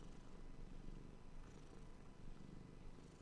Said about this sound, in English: Do you hear this feline?